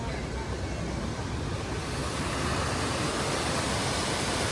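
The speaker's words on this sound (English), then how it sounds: "You guys hear the waterfall go from loud" A waterfall at the Magic Kingdom theme park rushes as a steady, broad hiss of falling water that grows a little louder partway through.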